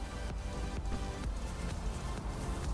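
Declasse Tornado Rat Rod engine idling in GTA 5, a rough, dense low rumble with lumpy pulses repeating about every half second, loud and continuous with no voices.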